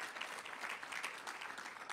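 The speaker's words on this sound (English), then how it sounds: "Can you give him a round of applause?" An audience claps steadily at a wellbeing and healthy-living talk; the applause is brief and dense, with no voices over it.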